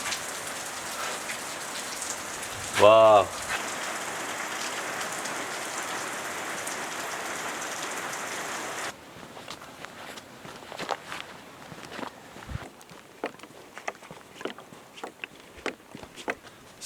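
Heavy rain pours steadily over Paraguayan wilderness, a dense hiss for the first half before easing into scattered drops and patters; a brief exclamation cuts in early.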